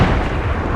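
Grapeshot cannon fire exchanged between sailing warships in Total War: Empire, a loud, dense rumble of overlapping blasts sustained through the whole moment with no clear gaps.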